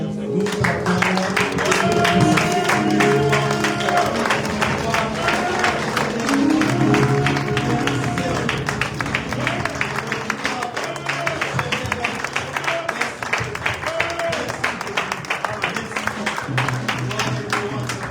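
A worshipping congregation applauds throughout, a steady dense clapping under singing and a leading voice, close and loud across the whole stretch.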